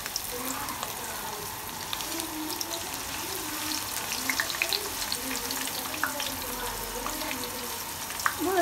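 Food fries in a pan over a low flame, making a soft continuous sizzle with small pops and occasional stirring clinks, fairly quiet and close, with faint speech underneath.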